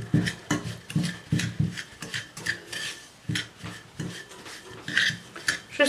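Sugar being worked into butter in a bowl for a Normandy apple tart: rhythmic scraping strokes of a utensil against the bowl, close and fairly loud, repeating roughly twice a second with no talking.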